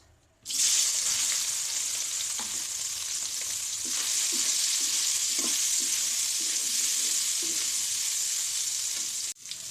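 Soybean chunks fry in mustard oil in a kadai with a loud, dense, continuous sizzle heard close up. Soft rhythmic stirring taps run beneath it, and the sound cuts off abruptly at the end.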